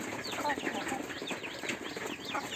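Free-range desi chickens crowd in for feed, giving steady close clucks and chirps with bursts of wing flapping and scratching throughout.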